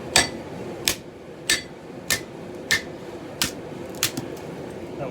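An old ball peen hammer has its handle driven out with a series of sharp metallic hammer strikes, about eight evenly spaced ringing knocks close up, with no talking.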